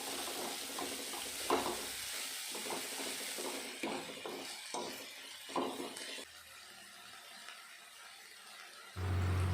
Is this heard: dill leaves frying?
yes